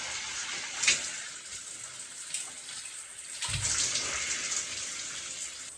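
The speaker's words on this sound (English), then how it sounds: "Now we take it out and we rinse it." Water runs steadily while long curly hair is rinsed, a continuous close hiss of spray and splashing with a brief louder gush near the start and a slightly fuller flow in the second half, no voices.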